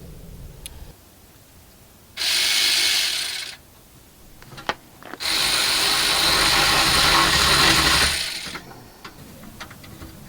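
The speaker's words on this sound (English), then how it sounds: "This is the first time I used my power ratchet." A power ratchet tightens worm-drive hose clamps in two sustained bursts of whirring, clicking mechanism noise, about one second and then three seconds long, with a few small taps and handling clicks between them.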